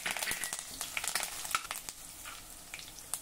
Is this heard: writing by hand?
no